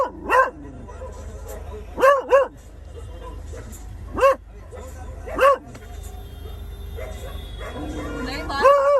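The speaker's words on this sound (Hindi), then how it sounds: "बाहर के कुत्ते भौंक रहे हैं, इसलिए वो भौंक रहा है।" A dog inside a car barks in short, spaced yips at an auto-rickshaw and other dogs outside, each bark sharp and fairly close over a low engine rumble, with quieter whimpering toward the end.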